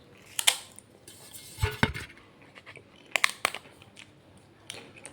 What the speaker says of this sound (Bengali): এখন শুধু পাঁপড়টা খাচ্ছি